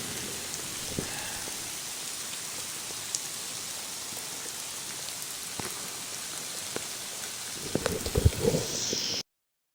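Steady rain patters over the whole scene, with scattered drips and a few louder taps and rustles near the end before it cuts off.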